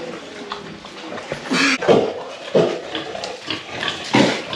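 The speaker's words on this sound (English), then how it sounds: "We have seen some baby pigs." Three-week-old baby pigs grunting and squealing in short, irregular bursts, close by, with a few louder squeals standing out over a busy farm background.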